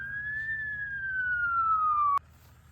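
A 108 ambulance siren sounds in a staged roadside accident skit in Gujarat, a single clear sustained wail that drifts slowly lower in pitch, then stops abruptly.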